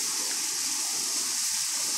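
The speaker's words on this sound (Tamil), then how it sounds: "கிணத்துல தண்ணி எப்படி ஊறுது பாருங்கள்" Water seeps and flows in a farm well in Perambalur district, a steady hissing gush that runs close and unbroken throughout.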